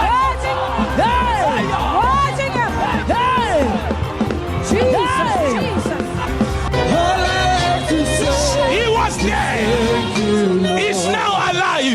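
A crowd screams and cheers in excitement at a staged faith-healing miracle, many voices shrieking and whooping together over a rumbling background, loud and sustained throughout.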